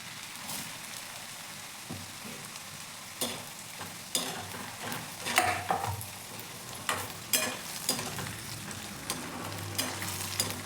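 Ration rice deep-frying in hot oil until chocolate brown, a continuous crackling sizzle with bursts of bubbling and occasional stirring scrapes, close and steady.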